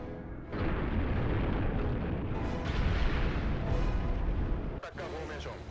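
Tanks firing in the movie Shin Godzilla: a loud, continuous rumble of heavy cannon fire and booms mixed with a musical score, with a person talking over it.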